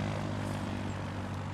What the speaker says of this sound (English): I know we got an airplane coming in somewhere